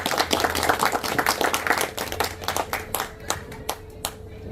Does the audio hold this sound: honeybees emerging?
no